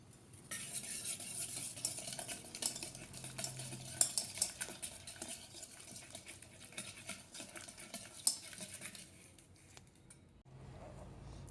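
Soya chunks are mixed with garam masala in a bowl, giving a busy run of scraping, stirring and occasional clinks against the bowl, close and fairly quiet, ending in a near-silent pause.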